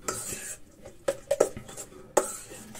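Broccoli being stirred with pearl couscous in a bowl, giving scattered metallic clinks and scrapes of a utensil against the bowl in irregular bursts with quiet gaps between them.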